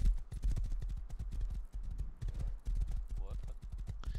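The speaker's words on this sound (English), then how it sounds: "Yeah, go on the road and the horse goes faster." Horse hooves clip-clopping at a gallop along a road in the survival game Rust, a quick steady rhythm running under near-constant talk from players.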